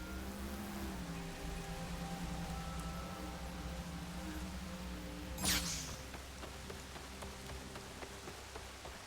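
Steady rain patters over a low ambient hum in the video game Horizon Forbidden West, with a brief sharp swish midway through; no voices.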